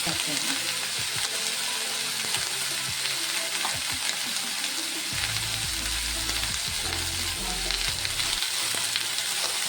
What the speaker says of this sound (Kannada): ಬೆಳ್ಳುಳ್ಳಿ ಸ್ವಲ್ಪ ಕೆಂಪಾಗಲಿ